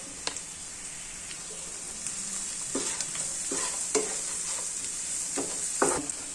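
Onions and leaves sautéing in a pan for bhuna chicken give a steady, close sizzling hiss, broken by scattered scrapes and taps as a spoon stirs them. No one speaks.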